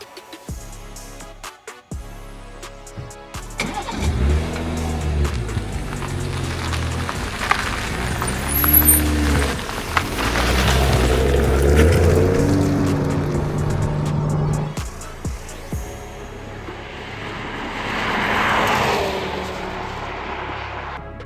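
Toyota GR Supra Final Edition driving, engine note rising and falling through several revving gear pulls, loud and close from inside the car, with a steady drone after a brief quiet start and no talk.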